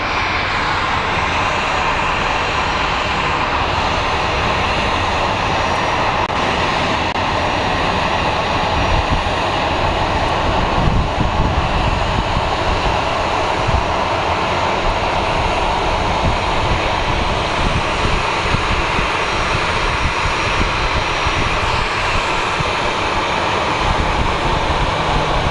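Aircraft engines roar steadily at Phoenix Sky Harbor International Airport, a loud continuous jet drone that holds throughout without any talk over it.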